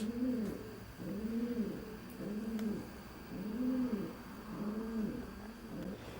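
Racing pigeons coo steadily inside a large coal shed, a repeated rolling coo in a slow, regular rhythm with several birds calling one after another, close by against a faint hum.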